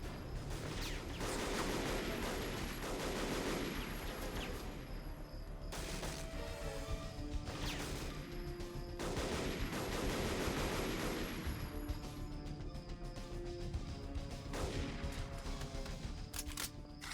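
Scattered gunshots from the video game Dead to Rights, with sharp reports that recur every couple of seconds over a steady bed of game ambience and music.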